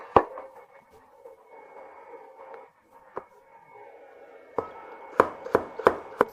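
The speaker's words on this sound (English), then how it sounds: "Just cut it in half, make a few more cuts, and quickly chop it up." A knife chops a carrot on a cutting board, with a few scattered light taps followed by a quick run of sharp, close chops near the end.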